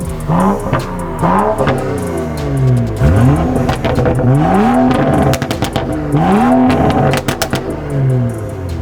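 Several loud car engines rev repeatedly at a late-night car meet, sweeping up and down in pitch in bursts, with a very loud modified car and another revving in the background.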